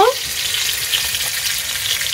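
Onions fry in hot oil for a country chicken curry, giving a steady, close sizzle that crackles continuously on its own with no voices.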